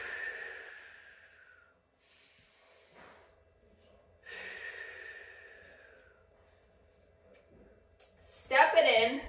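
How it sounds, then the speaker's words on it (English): Deep, slow breaths held in a plank during a seniors' stretching and mobility routine: long, airy exhales close to the microphone, followed by a louder rustle at the end. "2 deep breaths here."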